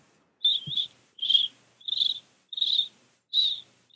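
A human voice imitates a cricket with five evenly spaced shrill chirps, each a buzzy trilled burst with short gaps between, close and clear.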